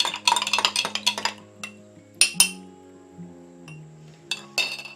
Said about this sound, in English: I'm going to stir these up in here.